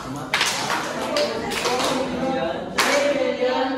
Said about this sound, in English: Let's give them a 3 million clap